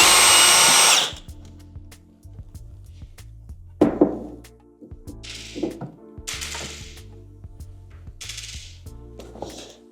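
A power screwdriver briefly whirs while removing screws from a JBL Partybox 720 speaker, followed by several scattered clicks, clinks and thunks of screws and parts being handled up close.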